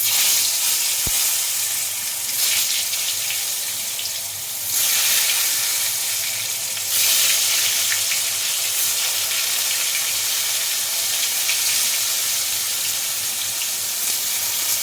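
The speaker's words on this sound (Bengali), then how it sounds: "তেলটা গরম হয়ে গেছে বেগুনগুলো দিয়ে দিচ্ছি" Eggplant pieces frying in hot oil for a hilsa fish curry, a loud, continuous close sizzle and hiss that swells briefly and settles into a steady crackle with no talk.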